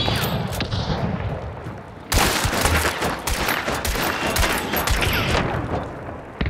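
Rapid bursts of gunfire in the video game Hunt: Showdown crackle and boom, starting distant and then erupting loud and close in dense, overlapping volleys.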